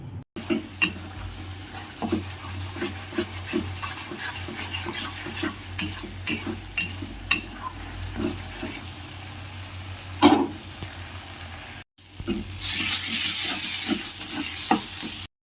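Spice masala with Kashmiri red chilli powder stirred and fried in a pan for a jackfruit curry, with steady soft sizzling, repeated scraping stirs and occasional utensil clinks, ending in a louder burst of frying.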